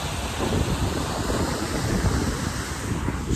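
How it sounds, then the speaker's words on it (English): A waterfall in Antalya, Turkey, gives a steady, loud rushing roar close by, a dense unbroken wash of falling water with no voices over it. "This is the waterfall in Antalya."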